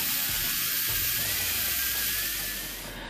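A power saw rigged from a circular saw cuts the inner part of a workpiece along a marked line, a loud, steady high-pitched whine held close by that fades slightly at the end.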